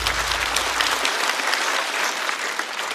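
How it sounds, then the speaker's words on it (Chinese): A stand-up comedy audience applauds the comedian Erge, a dense, steady burst of clapping from a full crowd that keeps going at an even level throughout. "再次掌声送给二哥"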